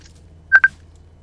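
In Left 4 Dead 2, a phone in the game gives two short, clear electronic beeps in quick succession over a low steady background hum.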